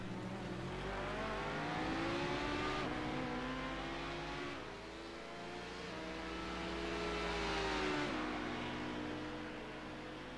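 Sports race cars speed around the high banking at Homestead, their engines droning in steady harmonic tones that rise and fall as they pass, with a shift or dip in pitch partway through.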